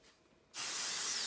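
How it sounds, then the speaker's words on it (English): After a brief quiet moment, a can of spray adhesive releases a sudden, loud, steady hiss that continues close by to the end. "spray it. This is the spray adhesive I buy at Joann's."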